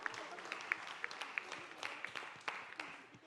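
Applause at a press conference marking 17 years of Taarak Mehta Ka Ooltah Chashmah: a thin, scattered patter of clapping with a few sharp individual claps standing out, fairly faint and fading toward the end.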